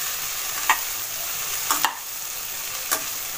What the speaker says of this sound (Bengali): দিয়ে ভালো করে মশলাটা মাখিয়ে নেব।